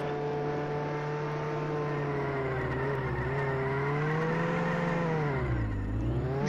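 A car engine drones steadily with a sustained tone that rises and falls as it holds revs, then dips sharply near the end, close and loud with no voices.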